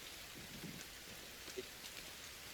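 Rain falls steadily in the survival video game The Forest, a faint, even hiss with a few soft drips, with no voices over it.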